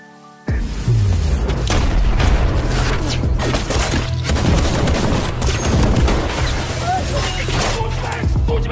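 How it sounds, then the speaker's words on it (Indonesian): Gunfire in a film shootout, a loud burst of shots with booming, crashing impacts that starts abruptly and keeps going as dense, continuous firing with heavy low rumble. "Dan baku tembak pun terus terjadi."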